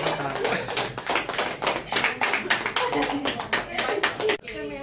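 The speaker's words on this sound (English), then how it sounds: "clap kar do bhai." Audience clapping fills a question-and-answer session, a dense run of fairly close claps lasting several seconds before cutting off abruptly.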